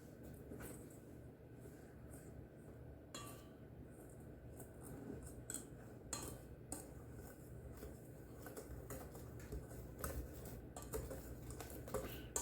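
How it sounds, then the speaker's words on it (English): Dry ingredients for apple fritters are mixed in a bowl, giving faint, irregular scraping and clinking taps that repeat through the whole stretch at low volume, with no talking. "your dry ingredients, go ahead and give them a good mix"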